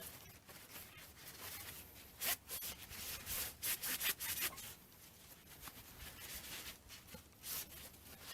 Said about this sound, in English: Make sure you really rub in around the corners of the knots and everything.